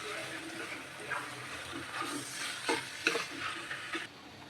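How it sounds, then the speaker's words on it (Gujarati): Capsicum, carrot and cabbage being stirred and sautéed in a pan for Manchurian gravy, with a steady sizzle under repeated scraping strokes of a spoon, close and moderately loud. "સારી રીતે હલાવી લેશું ને થોડી વાર સાતળવા દેશું"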